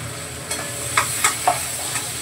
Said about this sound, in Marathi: जिरं घातलं इथे आणि बटाटा थोडासा तेलामध्ये परतून घेते